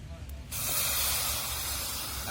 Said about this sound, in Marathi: आता आपल्याला लगेच कडील फोडणी द्यायची आहे